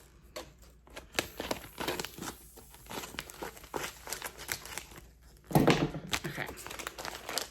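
A vacuum-sealed parcel of yarn being opened, its plastic crinkling and tearing in close, irregular bursts with one louder rip, while a person speaks briefly.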